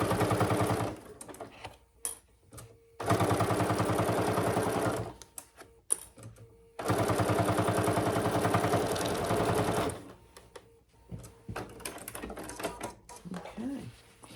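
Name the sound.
sewing machine stitching while making a basket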